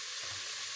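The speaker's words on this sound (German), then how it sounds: "Der Speck brutzelt vor sich hin." Bacon sizzling in the pot of a pressure cooker, a steady close hiss and crackle of frying fat filling the moment with no voice over it.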